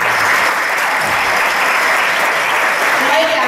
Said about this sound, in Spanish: Igualmente les pido un aplauso para Noelia Ortiz, directora del grupo de ba